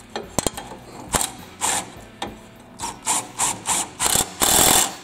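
A ratchet tightens a steering part on a John Deere L, LA or D series riding mower. Close, loud, rhythmic rasping strokes come in a series of bursts after a few sharp clicks, with no talking.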